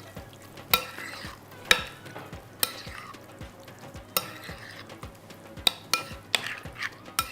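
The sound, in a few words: stirring cream into a sizzling pan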